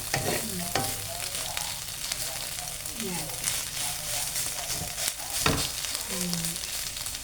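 Anchovy omelette (tortang dilis) frying in a pan gives a steady, moderately loud sizzle throughout, with occasional scraping and stirring clinks and a few brief murmurs of voice beneath.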